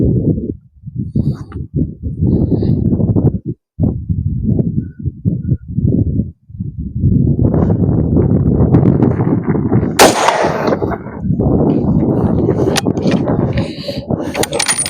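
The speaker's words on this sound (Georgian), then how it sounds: "ეს არის მეოთხე გასროლა" Rifle shots from a Sabatti .30-06 fired outdoors ring out as sharp, loud cracks amid near, continuous wind buffeting and people talking close by.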